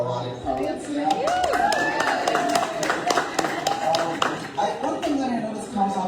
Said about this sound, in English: Let's give a round of applause to all of our erotic poets.